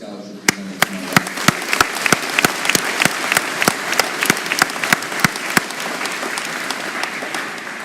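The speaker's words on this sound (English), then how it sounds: "So can we please give a huge round of applause to our scholarship presenters tonight." A graduation ceremony audience applauds the scholarship presenters, a dense crowd of hands clapping with a few loud, sharp claps close by standing out in a quick, uneven rhythm that carries on steadily.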